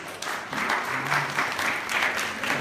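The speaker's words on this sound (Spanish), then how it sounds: "Un aplauso, por favor." Audience applause after a live eye-tracking reading experiment, a steady wash of clapping with slight pulsing intensity and no voices over it.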